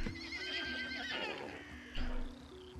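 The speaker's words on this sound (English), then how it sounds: "The ponies twitched and neighed nervously" Ponies neighing nervously in the video game Pathfinder Kingmaker, a loud close whinny with a shrill rising tone, then snorts and a second neigh over a steady background.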